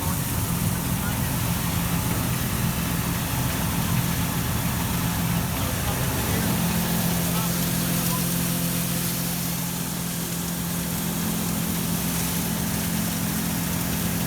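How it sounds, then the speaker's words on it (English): Feed mixer grinder on a small farm grinding corn fed from a gravity wagon, a loud continuous mechanical drone and rumble with steady low hum throughout. "It's going from the gravity wagon into the feed mixer grinder."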